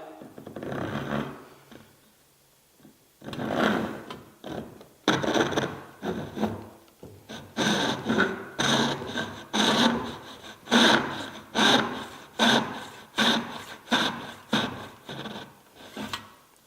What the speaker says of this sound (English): I hand cut the other side of this joint, staying inside the line.